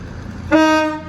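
Brief, loud horn toot from a train at Crewe station on the West Coast Main Line, a single sustained blast lasting about half a second.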